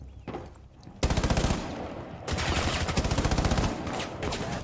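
Rifle fitted with an ACOG firing in Rainbow Six: a short burst, then long sustained automatic fire with rapid evenly spaced shots, close and loud, with a brief pause midway.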